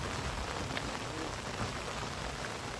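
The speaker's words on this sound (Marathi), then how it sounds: "पाऊस खूप पडायला लागला आहे बघा" Heavy rain pours down on a village farm field in a dense, steady hiss that holds at a constant level throughout, with no voices.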